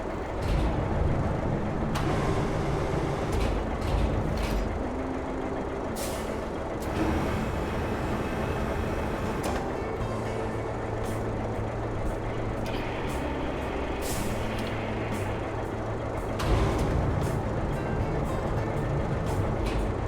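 A truck in the RoadCraft construction game deploys its huge anchors, giving a continuous mechanical engine drone with hissing, air-brake-like bursts and clanking shifts over about twenty seconds, with no talk.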